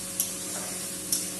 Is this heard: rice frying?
yes